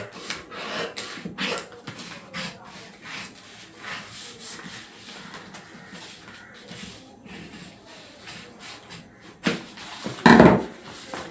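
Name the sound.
cutting a paper blouse neckline pattern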